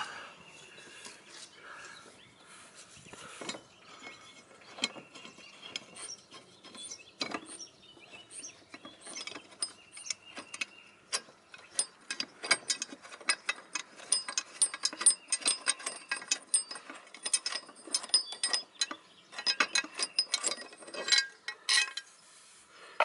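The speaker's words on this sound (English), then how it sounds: "And now I'm taking off this blade so my brother can sharpen it for me." A ratchet wrench loosening and removing a dull, beat-up blade, giving rapid repeated clicking bursts that grow busier and louder toward the end, close by with no talk.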